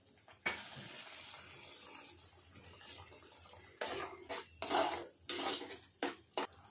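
Water poured into a pan of garlic matar paneer gravy, a sharp hiss at first followed by softer bubbling, then several short splashing pours and bursts, fairly faint and heard without talk.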